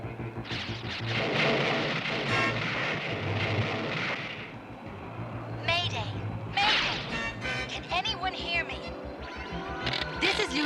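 A cartoon cosmic storm crackles with bursts of thunder-like crashes and whipping zaps over a rumbling roar, punctuated by sharp electronic effects.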